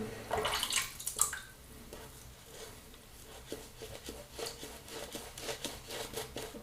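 Water poured and splashed into a shave soap lather in a bowl with a brass razor nearby, a brief wet burst early on followed by soft, intermittent patters and drips, close and fairly quiet.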